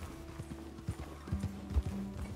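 Horse hooves clip-clopping at a steady trot in Red Dead Redemption 2 on Xbox One, with even repeated thuds, soft and somewhat distant, a faint whinny among them.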